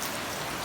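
Heavy rain falls hard at a Japanese work site at night, a continuous close wash of drops hammering surfaces without any voices.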